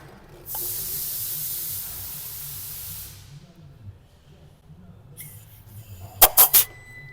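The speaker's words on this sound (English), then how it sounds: "I'm just going to blow a bit of compressed air in the cylinder, see if we can hear anything." Compressed air hisses into an engine cylinder through an old tyre valve glued to rubber pipe on a Nissan Juke DIG-T with a failed timing chain, a loud close burst for about three seconds, followed later by a few sharp clicks.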